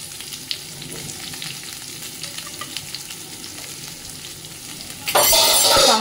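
Onion and green chilli land in a cumin tempering, first a quiet crackle of frying, then a sudden loud burst of sizzling that holds steady right up close.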